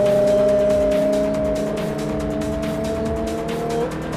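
A car in the racing video game Forza 4 cruises slowly, its engine holding a steady, close drone with a faint tire hiss. The note sags only slightly near the end.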